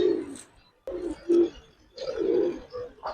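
Pigeons at a Giribaz and coloured pigeon farm coo nearby in several low, rolling phrases with short pauses between them, close and clear against a quiet background.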